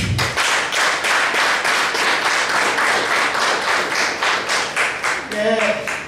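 Audience of political party coordinators in Togo applauding in rhythmic waves of clapping, loud and sustained for several seconds before a voice cuts in at the end.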